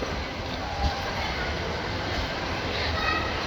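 A train pulls into a station platform, producing a steady, broad rumbling roar that stays fairly even throughout, with a brief bump in loudness near the start.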